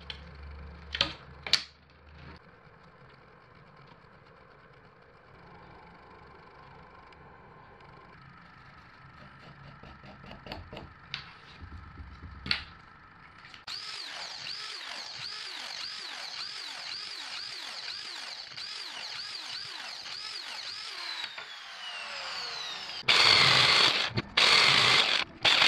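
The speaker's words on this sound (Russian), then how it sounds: "Десять минут работы лобзиком." A jigsaw cuts wood to shape a wooden fork. After scattered knocks and taps, a rapid buzzing, chattering cut runs steadily for several seconds, then a louder short burst of sawing follows.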